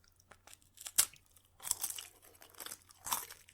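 Bites into a crunchy salty snack land up close, each sharp crunch followed by crackly chewing in uneven bursts, with quiet gaps between them.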